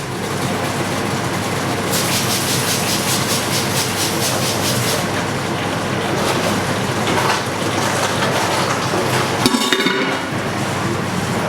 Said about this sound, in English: Turn on the tap water.